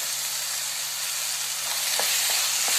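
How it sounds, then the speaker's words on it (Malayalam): Green chillies or small bird's eye chillies sauté in hot oil in a pan for a side dish, a dense, steady close sizzle with a few faint stirring taps near the end. "നന്നായിട്ട് വഴറ്റി കൊടുക്കുക."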